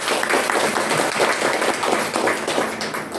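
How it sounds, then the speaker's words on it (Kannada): Audience applause at a devotional Haridasa quiz program, a dense sustained clapping from a crowd, loud and steady for the whole stretch with no speech over it. "ನಮಸ್ಕಾರ ಮತ್ತು ಚಪ್ಪಾಳೆ"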